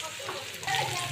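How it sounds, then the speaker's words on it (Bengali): Chopped onion and garlic frying in soybean oil in a pan give a steady, close sizzle that turns noticeably louder and fuller partway through and then holds. "তো আমার পেঁয়াজ একটু ভাজা ভাজা হয়ে গেছে"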